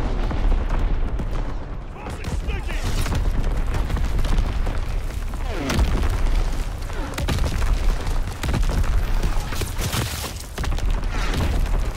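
An artillery barrage in Call of Duty: WWII, at the Flak Tower, with a string of loud booms and cracking blasts rolling over each other through a dense, rumbling battlefield din, each impact sharp at the onset and then rumbling away.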